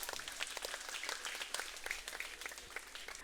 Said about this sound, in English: Let's give a big round of applause for everybody.